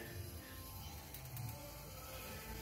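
A small transmission jack rolls and shifts in a shop during Allison transmission removal on a Duramax LMM, giving a steady low mechanical rattle and faint ratcheting creaks close by, with no talk.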